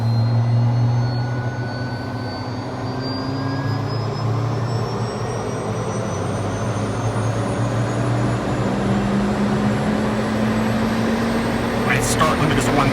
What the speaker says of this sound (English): Listen to the prop come up.